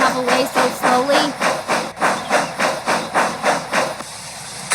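A steam locomotive from Thomas and Friends puffs in a steady, rhythmic chuff, each loud hiss of steam repeating about twice a second close by, with a brief whistle-like tone early on and no talking.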